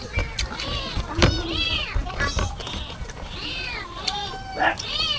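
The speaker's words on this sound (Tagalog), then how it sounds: "Ayan, narinig yung mga pusa ko." Several hungry cats meow insistently close by, overlapping high calls coming in quick succession, with a person talking between them.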